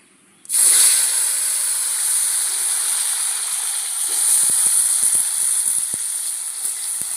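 Potatoes hit hot oil with a sudden loud sizzle that settles into a steady, close hiss of frying, with occasional soft pops.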